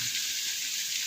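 Garlic, onion and ginger sauté in a hot pan, giving a bright, even sizzle that holds steady for about a second, close and moderately loud with no speech.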